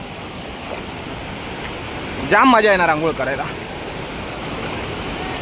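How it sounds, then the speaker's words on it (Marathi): A waterfall on a stream in the Konkan countryside pours as a steady rushing wash, with someone speaking excitedly over it partway through. "बघा वॉटरफॉल एक नंबर आहे धबधबा खतरनाक आहे"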